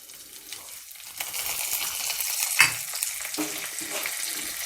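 Chana dal, green chili and cashews frying in hot oil, a bright crackling sizzle building over a few seconds with a sharp pop and stirring scrapes, heard up close with no one talking.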